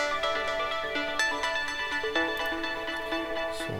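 An arpeggiated synth patch from Omnisphere, customized, plays a quick rippling run of bright repeating notes that shift in pitch, steady and upfront with no voices.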